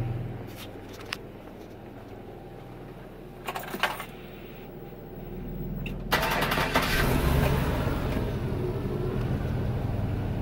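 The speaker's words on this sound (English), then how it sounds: "Now let's start the engine." A vehicle engine cranks over sluggishly on a starter fed by a low, weak battery, then catches and settles into a steady running rumble.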